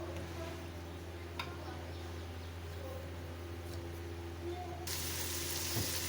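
Soft, steady sizzle of minced meat (keema) frying in a pan, a faint continuous hiss with a low hum beneath, brightening slightly toward the end with an occasional clink.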